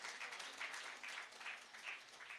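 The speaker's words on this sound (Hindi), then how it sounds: "प्लीज जोरदार तालियां एक बार फिर" An audience claps steadily at a Hindi poetry recital in Chennai, a dense, even wash of applause that sounds faint and distant throughout.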